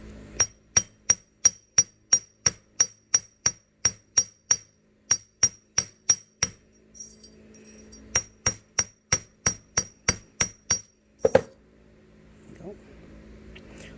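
A jewelry maker hammers wire into a French hook clasp, striking a bench block in quick, even runs of sharp metallic taps, then pausing before another steady series, ending with a couple of softer knocks and handling noise.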